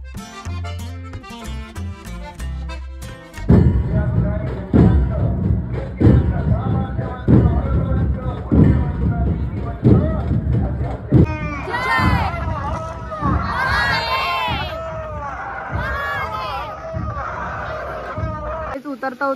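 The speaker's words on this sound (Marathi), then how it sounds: "तर बघूयात आपण किती गर्दी जमलेली काय आहे" A large crowd gathers at Raigad fort awaiting Maharashtra's chief minister, with dense chatter, footsteps and thuds filling the air after a brief musical opening, voices close and loud throughout.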